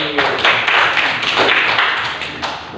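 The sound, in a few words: group clapping hands during ice breaking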